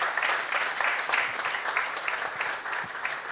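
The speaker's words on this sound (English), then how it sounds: "big round of applause for them as well" Dense crowd applause at the grand opening of a Hindu temple and community centre, a continuous, moderately loud patter of many hands that carries through unbroken.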